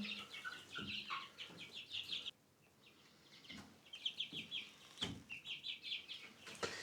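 New chicks and hens in a coop give repeated soft clucks and high peeping chirps close by, in short irregular bursts with a brief lull partway through.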